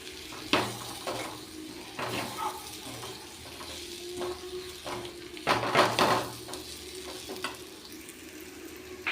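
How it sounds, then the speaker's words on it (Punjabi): Potatoes are stirred into a bitter gourd (karela) curry in a pan, giving a low, constant sizzle broken by irregular scraping and tapping strokes of the spoon, with no talk. "ਇਧਰ ਆਪਾਂ ਨੇ ਕਰੇਲਿਆਂ ਦੀ ਸਬਜ਼ੀ ਦੇ ਵਿੱਚ ਪਾ ਤੇ ਆਲੂ ਚੰਗੀ ਤਰ੍ਹਾਂ ਮਿਕਸ ਕਰ ਦਾਂਗੇ"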